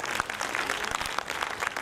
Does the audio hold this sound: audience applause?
yes